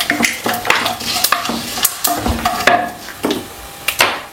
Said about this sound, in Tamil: இப்போ கொஞ்சமாக இது தாளிப்பில் வெந்தயம் போட்டுடலாம்.